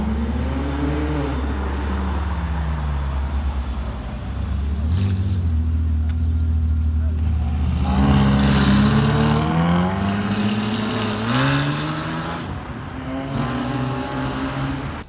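A V12 car fitted with QT exhaust cutout valves drives along a city street in Puerto Madero. The loud, close engine swells and falls through several rising revs, with a sharp exhaust bark and roar between softer stretches.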